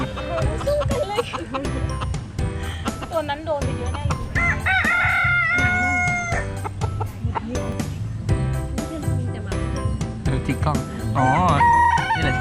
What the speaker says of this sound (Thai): ศึกไก่ชน